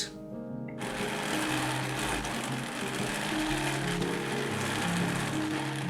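Drum carder cranked steadily while blending wool and flax tow fibres, a continuous whirring mechanical hum with rhythmic rotation noise, close and fairly quiet, no talking.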